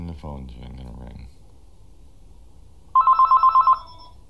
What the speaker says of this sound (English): And the phone's gonna ring.